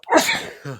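A single sharp human sneeze bursts out close by, fading quickly into a brief trailing voiced sound.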